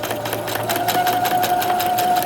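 Sewing machine running steadily as it stitches a reinforced seam on a Star Wars jumpsuit, a continuous close whirring drone with a fast rhythmic needle pulse throughout.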